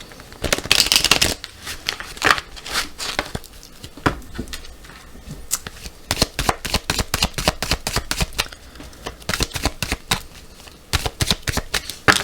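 Oracle cards shuffled and cut by hand, a rapid run of crisp riffling flutters and soft slaps coming close and loud in repeated bursts, with brief pauses between them.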